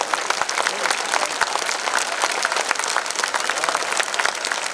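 Dense audience clapping fills a Dharma Rakshana Sabha gathering, loud and steady for several seconds, with crowd voices faintly mixed into the applause.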